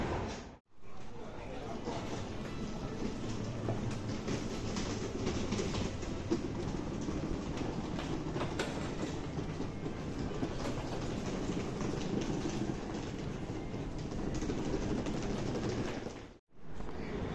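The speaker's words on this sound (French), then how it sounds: "Et voilà mon métro." A metro train ride in Osaka, Japan, with a continuous rumbling roar and rattling of the carriage throughout, and a person speaking over it.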